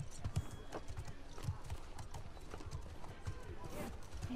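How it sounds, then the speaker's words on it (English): Horses in The Last of Us video game clip-clop with hooves in a rapid uneven rhythm, with an occasional neigh, while a person talks faintly in the background. "we're gonna get some horses"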